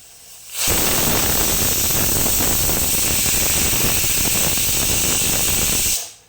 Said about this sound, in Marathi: साधारण तीन चिट्ट्या काढून घेऊया तीन चिट्ट्यामध्ये भात शिजतो